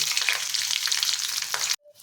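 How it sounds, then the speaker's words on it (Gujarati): Mustard seeds and green chillies frying in hot groundnut oil for a khaman tempering, giving a loud, close, crackling sizzle that holds steady for under two seconds before cutting off abruptly. "હવે આપણે નાની ચમચી રાઈ નાખીશું ત્યારબાદ આપણે અહીંયા લીલા બેથી ત્રણ મરચાં સમારે છે એ નાખીશું"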